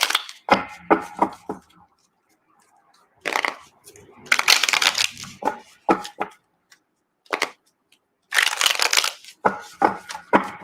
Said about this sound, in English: Let me shuffle a few times